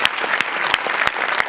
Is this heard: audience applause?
yes